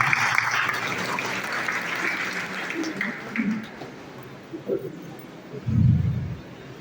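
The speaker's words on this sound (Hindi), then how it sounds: "मैं चाहूंगा सभी शिक्षकों के लिए एक बार जोरदार ताली होनी चाहिए" Audience at a B.Ed college event in Gaurichak, Patna applauds the teachers, a broad wash of steady clapping through most of the stretch, with some voices and a louder low burst near the end.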